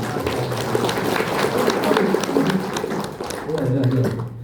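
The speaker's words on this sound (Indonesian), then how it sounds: "Tepuk tangan dulu semua." Audience in a hospital gathering clapping after a Ramadan talk, a dense continuous patter of hands that holds fairly loud for a few seconds, with voices mixed in under the clapping.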